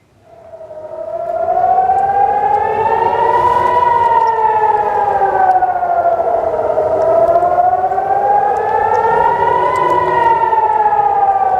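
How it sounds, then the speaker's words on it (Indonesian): A loud civil defense air raid siren in Nahariya, Israel, wails during a rocket alert, its pitch slowly rising and falling in long sweeping cycles. "Sirine pun menggema membuat warga Israel panik"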